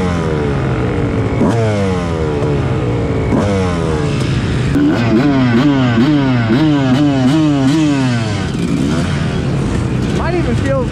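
A dirt bike fitted with a Lectron Billetron carburetor revs loud and close as it is ridden, the engine note climbing and dropping through repeated throttle blips and gear changes, with continuous mechanical roar.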